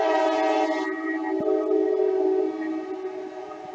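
A train horn sounds as a sustained, loud chord of steady tones, fading slightly toward the end, with no talk over it.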